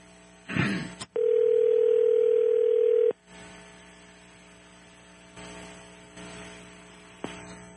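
A telephone line goes to a steady dial tone for about two seconds after a clunk of the handset, then cuts off into low line hum and faint static, with no talking.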